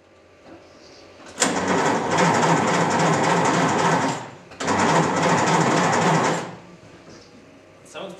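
A rally car's starter motor cranks the engine over in two long, loud, steady bursts separated by a brief pause, with a faint mechanical whir before and after.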